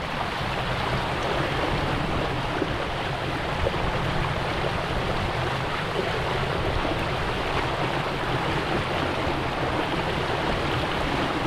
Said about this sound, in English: Going back through the deep water where the trail's flooded.